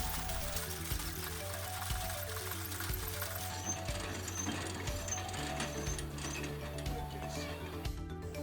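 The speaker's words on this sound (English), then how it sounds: "Here you can see me pumping about 100 liters of fuel into one tank" Fuel is hand-pumped about 100 liters into an aircraft wing tank, a steady mechanical churn with a repeating rhythmic pulse that runs continuously, fairly faint and even throughout.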